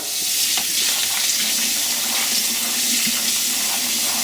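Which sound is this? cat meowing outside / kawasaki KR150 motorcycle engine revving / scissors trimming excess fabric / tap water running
tap water running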